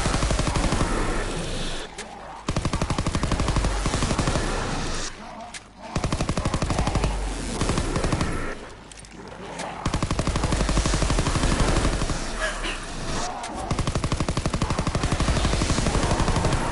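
Sustained bursts of PPSh submachine gun fire in the World War II shooter Call of Duty: WWII, loud and close, rattling in long rapid streams with brief pauses between volleys.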